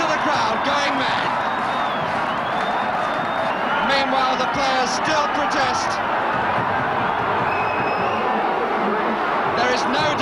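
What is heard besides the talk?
football crowd going mad after a goal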